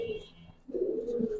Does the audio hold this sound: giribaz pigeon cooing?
yes